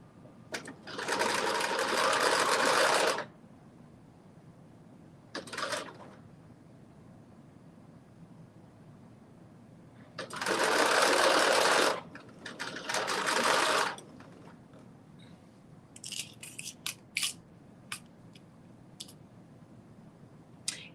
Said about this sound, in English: I'm stitching piece number 13 to piece number 12.